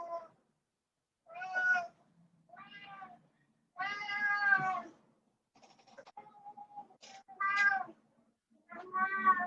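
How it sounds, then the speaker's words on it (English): A house cat meows repeatedly, several drawn-out, fairly clear calls spaced by short quiet gaps, close by in a quiet room. "you can hear my cat"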